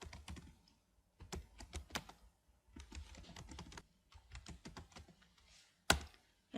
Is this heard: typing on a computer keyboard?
yes